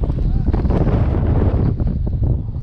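Strong wind buffets the microphone at a Louisiana lake during spring bass fishing, a loud, rumbling, gusty roar that continues throughout, with a voice talking under it.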